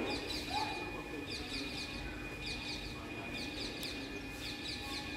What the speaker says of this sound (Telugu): చిలుకలు చూడండి తరుస్తున్నాయి చూడండి.